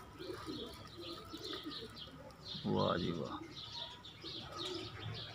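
A pigeon of an Indian breed coos and chirps near the microphone, with a brief flutter partway through, while someone talks over the birds.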